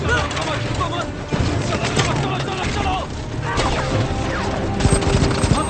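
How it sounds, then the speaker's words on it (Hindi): Gunfire in a Hindi-dubbed science-fiction war movie: dense, continuous bursts of shots and impacts with crashing debris, layered over a busy action soundtrack throughout. "हम पर गोलियां चल रही हैं"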